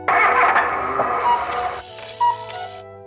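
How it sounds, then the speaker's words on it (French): A cartoon car that has run out of fuel cranks without starting, a loud grinding whir that stutters and then fades into a thinner mechanical hum, heard alone without talk. "Mais la voiture de Oui-Oui ne démarrait pas."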